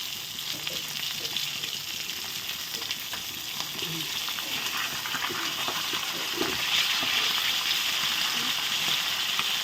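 A fried fish head sits with pumpkin in a pan of hot oil, producing a continuous bright hissing sizzle with scattered pops and occasional stirring scrapes, steady and fairly close with no talking.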